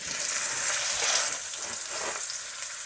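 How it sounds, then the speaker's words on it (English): A beef roast sears in hot oil, giving a loud, close, continuous hissing sizzle that surges and eases slightly, with no talking. "we're going to put the roast in and get it browned on the one side"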